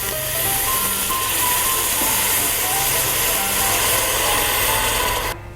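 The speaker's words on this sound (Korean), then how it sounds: "여기에다가 물을 부어서 끓여주세요." Water poured into a hot Amway Queen saucepan of stir-fried seaweed sets off a loud, continuous sizzling hiss that carries evenly and then stops abruptly near the end.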